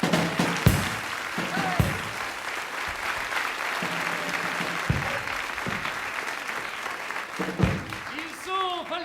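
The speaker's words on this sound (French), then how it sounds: "je vous demande de les applaudir de nouveau" A theatre audience at a French television cabaret show applauds a troupe of acrobats with sustained, fairly distant clapping, briefly punctuated by sharper claps and a faint voice or whistle near the end.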